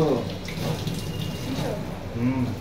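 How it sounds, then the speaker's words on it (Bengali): Cooking pots are washed at a kitchen sink under a running tap, a steady close splash and trickle of water with a person speaking over it. "এইগুলো বেশি রান্নার বাসনগুলো আমি মেজেই নিই"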